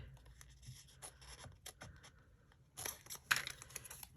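Scissors snipping through paper or card to cut out block T shapes for a craft box, a series of short crisp cuts and rustles that grow louder and denser toward the end.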